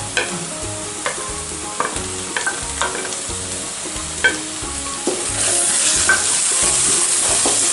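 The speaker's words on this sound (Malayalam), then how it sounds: "അപ്പോൾ ഇതും ഒന്ന് നന്നായിട്ടൊന്ന് പൊരിഞ്ഞ് വരട്ടെ, ഇഞ്ചിയും വെളുത്തുള്ളിയും ചതച്ചത്" Crushed ginger and garlic fry with onions in a pan for pepper chicken, a steady close sizzle under repeated spoon scrapes and clinks against the pan, getting louder and hissier toward the end, no talking.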